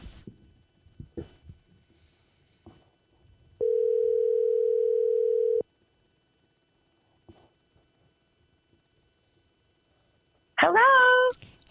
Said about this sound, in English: Should be ringing.